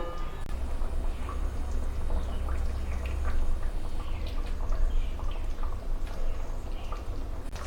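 Salmon fish curry bubbles and simmers in a pot on a gas stove: a steady, close wash of boiling liquid with scattered small pops and drips throughout.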